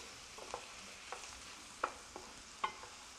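A spoon stirs and breaks up sausage meat in a pan with onions, garlic and olive oil, giving soft scraping knocks at irregular intervals over a faint, steady sizzle.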